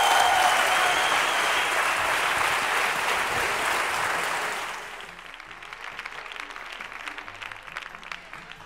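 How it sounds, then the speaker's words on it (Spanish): Audience applause for a musician taking the stage at a Spanish political comedy show: dense, loud clapping for about five seconds that quickly thins to scattered, fading individual claps. "Un aplauso para él."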